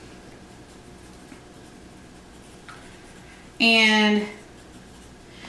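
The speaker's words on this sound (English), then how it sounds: "let me write that down before I forget" A pen scratching on paper for a brief half-second stroke, close and crisp, amid quiet room tone with a steady fan hum, after a single spoken word.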